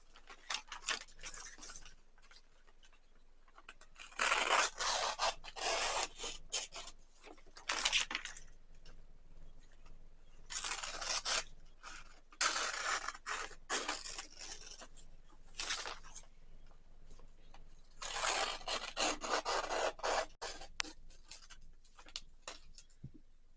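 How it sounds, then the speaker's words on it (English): Scissors cutting wrapping paper up close, bursts of crisp snipping and rustling separated by short quiet gaps. "You're going to cut down each line until you have about an inch or 2 of space between the middle"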